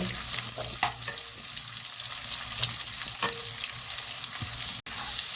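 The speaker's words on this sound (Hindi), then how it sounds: "छुआरा के साथ में दोनों चीज़ें हमने भून ली हैं तेल में।" Dry dates, raisins and chironji frying in oil for winter laddoos: a continuous close crackling sizzle broken by repeated spoon scrapes and stirs, with a brief dropout near the end.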